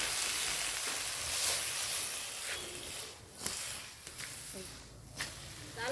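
Foli fish frying in hot mustard oil sizzles with a broad, steady hiss that dips and surges slightly, with a few soft knocks and a voice speaking briefly.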